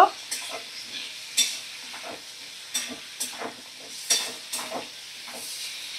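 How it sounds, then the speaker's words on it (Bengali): A masala with ginger-cumin paste is stirred and fried in a pan: a soft, continuous sizzle broken by about a dozen irregular scraping strokes of the spoon against the pan, close and fairly loud, with no talk. "ভালো করে এবার আদা জিরে বাটা দিয়ে আরও একটু 2 মিনিট আমি ভালো করে নাড়াচাড়া করে মশলাটা ভালো করে কষিয়ে নেব"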